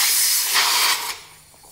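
Pressurized air bursts out of a drift kart tyre valve as a Nitto fitting is pulled off after inflating to about 40 to 50 psi, a loud, close, broadband hiss that swells and then tapers off within about a second.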